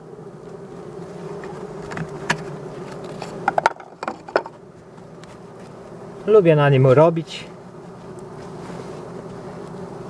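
Steady buzzing from many honeybees at a hive with a two-storey honey super fills the background, with a louder, closer bee droning past briefly midway; a beekeeper speaks a few words in Polish over it.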